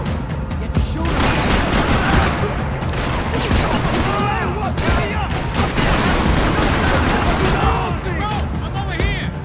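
Heavy video game battle gunfire, dense volleys of rapid shots and booms rattling continuously at close range, with shouted voices over the din.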